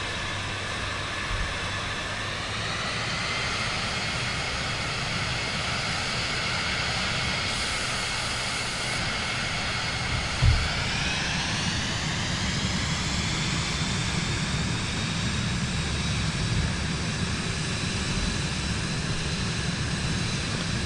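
Steady drone of an aircraft engine in Microsoft Flight Simulator 2024, a continuous loud hum with shifting harmonic tones that rise in pitch midway, with a brief thump near the middle.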